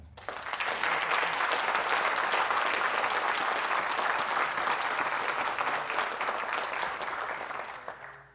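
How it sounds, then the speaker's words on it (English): Sustained audience applause at a symphony orchestra concert in an auditorium, dense and steady clapping filling the hall for about eight seconds before tapering off at the end. "How about one more round of applause for Zayn?"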